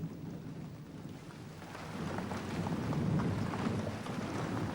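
Rain falls in the Great Karoo as a soft, steady hiss that swells slightly partway through, with a low rumble underneath and no voices.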